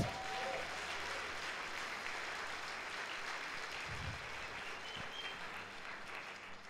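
Church congregation applauding during a Sunday service, a continuous soft wash of clapping from many people, heard at a distance and fading slightly toward the end.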